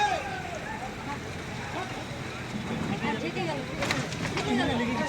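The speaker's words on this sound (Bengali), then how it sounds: "বহু ট্রলার লঞ্চ এসে এখানে হাজির হয়েছে" Many trawler and launch boat engines on a river in the Sundarbans, a steady low rumble with wind and water noise, and voices talking over it.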